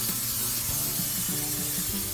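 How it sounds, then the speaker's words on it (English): Cooking spray misted into a 9x13 baking dish, a close, steady hiss that runs unbroken through the whole moment. "I'm just going to grab a little bit of cooking spray."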